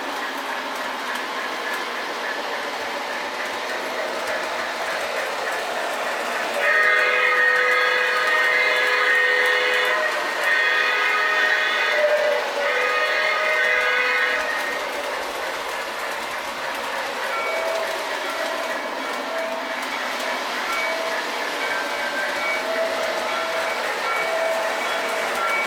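A Lionel LionChief model train running on a Milwaukee North Western layout, producing a steady rolling rumble with clicking wheels, while a whistle-like tone rises in the middle and then eases back, heard close and continuous without talk.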